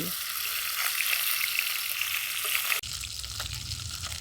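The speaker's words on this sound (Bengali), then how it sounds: "এই মাছগুলো একটা পিস ভাজা হয়ে গেছে, আর একটা পিস উল্টে দিচ্ছি।" Mrigal fish pieces fry in hot oil with a steady, loud sizzle that continues throughout, shifting briefly midway as a piece is turned and the crackle resumes.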